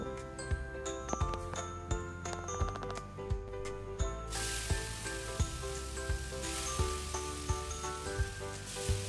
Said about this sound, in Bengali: এখন ওই তেলের মধ্যে আমি ম্যারিনেট করে রাখা মাংসটা দিয়ে দেব।